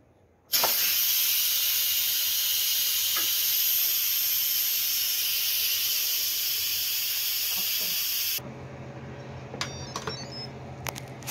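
An Instant Pot electric pressure cooker on the rice setting, cooking Afghani pulao, vents a loud, steady hiss of steam for about eight seconds, then stops, leaving faint clicks and room noise.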